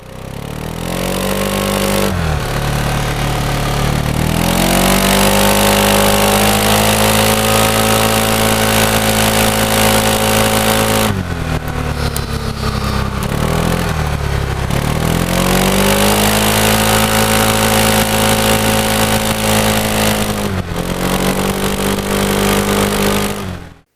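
A Kawasaki J300 scooter engine droning loudly from onboard while riding, its pitch rising and falling through several acceleration and deceleration cycles, with brief dips between them.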